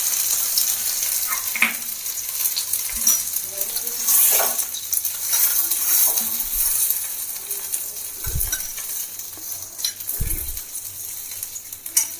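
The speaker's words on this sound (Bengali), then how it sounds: "ঘি গরম হয়ে গেছে এবার দিয়ে দেবো একটু কাজু আর কিশমিশ" Cashews and raisins crackle and sizzle in hot ghee in a heated ladle, loud and close, with scattered metallic clinks and a few dull thuds of cookware.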